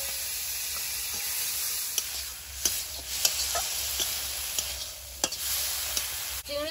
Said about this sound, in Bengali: কড়াইতে যা তেল আছে চিংড়ি মাছটা 1 মিনিট ভেজে নেব।